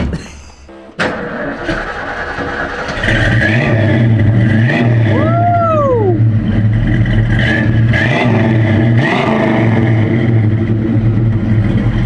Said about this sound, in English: That's my favourite bit, the idle, just that level of revs.